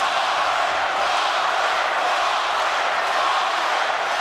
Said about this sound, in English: Crowd taking up a chant.